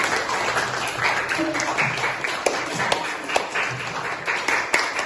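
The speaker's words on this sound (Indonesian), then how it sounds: "Berikan aplaus" A classroom full of students applauding group 2, with a steady wash of clapping and some sharper individual claps standing out, and faint voices underneath.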